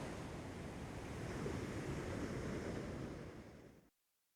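Broadband ocean surf rolls steadily along a stretch of coast, the wash swelling gently near the middle before fading out and cutting to silence just before the end; no voices.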